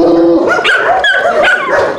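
A young bloodhound working as a tracking dog barks and yips loudly at close range, a quick run of sharp, pitched barks with whimpery tones running through the whole stretch.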